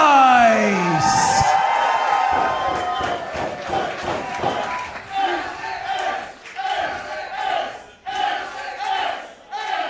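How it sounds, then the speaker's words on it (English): A loud indoor crowd at a Beyond Wrestling match chants for wrestler Alec Price in strong rhythmic pulses, with shouts and cheers filling the room. "And the crowd chanting ace"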